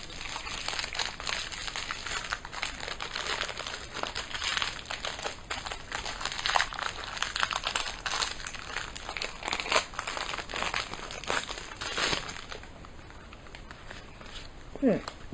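Invizimals booster pack wrappers crinkle and rustle continuously and up close, the crackling foil packaging handled at length while someone talks over it in French.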